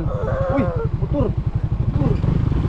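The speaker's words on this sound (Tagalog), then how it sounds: "May motor mga idol." A motorcycle passes on a rural road, its engine a loud, close, pulsing drone that holds for the whole stretch while voices talk over it.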